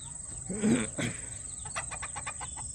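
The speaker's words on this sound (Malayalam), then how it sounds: "ഒറിജിനൽ അടയിരിക്കുന്ന നാടൻ കോഴികൾ തന്നെയാണ്" A native hen clucks a few times close by, followed by a quick series of short clucking notes over a steady high-pitched background hum.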